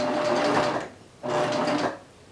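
A sewing machine stitches knit fabric with elastic in two steady runs of rapid mechanical whirring, each about a second long, with a brief pause between and no talk.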